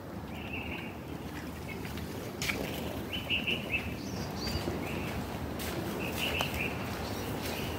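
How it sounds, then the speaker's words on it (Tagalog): Several birds chirp in a home garden with fruit trees and olive trees. The calls are scattered, short and high, some nearer and some farther off, set against a quiet outdoor background. "Ang daming ibon."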